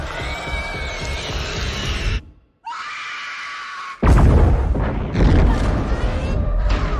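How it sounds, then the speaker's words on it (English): A loud booming video game explosion of a ship crashing into a space station erupts after a brief pause, followed by roaring, rumbling debris noise and shrill, screeching effects. "the ship, now drifting aimlessly, crashed into the station, triggering a massive explosion"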